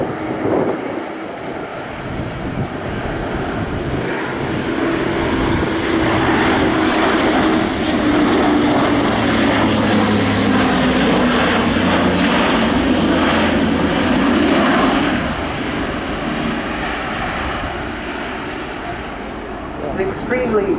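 Airbus A400M Atlas four-engine turboprop military transport flying a display at RIAT 2018, a loud sustained propeller and engine drone that swells as it passes close by, with a commentator talking over it.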